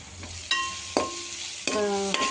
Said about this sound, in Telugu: నిమిషం ఇలా మనం ఫ్రై చేసుకోవాలి